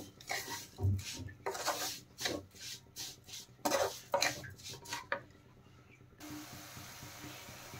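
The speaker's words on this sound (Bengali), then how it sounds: "নেড়ে চেড়ে ভালো করে নারকেলের একটা পুর বানিয়ে নেব।" A spoon scrapes and rubs around a pan as a coconut filling is stirred, with some water added, in irregular close strokes and pauses; the scraping stops near the end, leaving a quiet background hiss.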